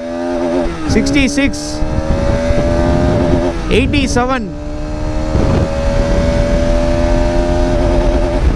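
A Bajaj Pulsar RS200 sports bike accelerates hard through the gears on a speed run, its engine pitch climbing steeply and dropping twice at gear changes before holding a high, steady whine. A voice calls out speed numbers over the engine.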